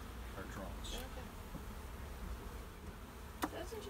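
Honeybees and drones buzz faintly around an open hive, a soft steady hum with brief closer passes under quiet outdoor ambience.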